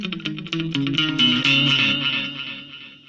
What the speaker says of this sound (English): We got a tape echo,